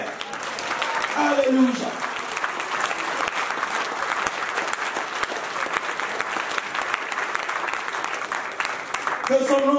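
Continuous applause from a church congregation during a Sunday service in Aubervilliers, steady and full throughout, with a voice singing or speaking over it at the start and again at the end.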